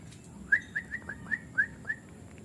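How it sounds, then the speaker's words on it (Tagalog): A large bird gives a run of six short, bright whistled calls, evenly spaced and fairly close, with no talk over them. "Malaki din palang ibon yan, diba?"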